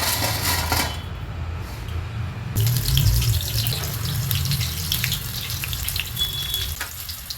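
Banana slices go into hot oil for crispy Kerala-style chips, setting off a loud rushing sizzle that jumps up partway through, then a steady, close, bubbling crackle with no voices over it.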